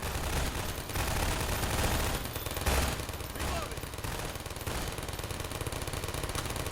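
Submachine-gun fire in a video game, with turrets defending nearby, heard as fairly steady rapid bursts throughout, fading slightly around the middle before resuming, with faint voices in the mix.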